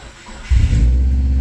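Subaru car engine cranks briefly and catches around halfway through, then settles into a steady, loud, close idle rumble on a cold day.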